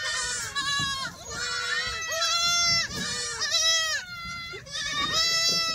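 Kathiawadi goats and their kids bleating loudly and almost continuously on a farm, several overlapping calls close by with brief pauses between bursts.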